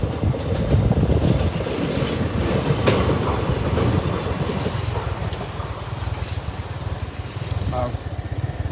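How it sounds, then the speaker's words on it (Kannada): A train rumbles past close by, wheels clattering rhythmically on the rails with a brief squeal, loud and steady throughout. "ನೀವು ನೋಡ್ತಾ ಇರ್ಬೋದು ಟ್ರೈನ್ ಹೋಗ್ತಾ ಇದೆ"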